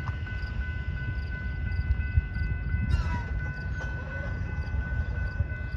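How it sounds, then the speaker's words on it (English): BNSF freight trains, an eastbound vehicle train and a westbound manifest, meet and roll past with low, rhythmic clatter of wheels on rails, steady and fairly close, with a brief higher squeal midway. "Looks like an eastbound vehicle train and a westbound manifest are gonna meet."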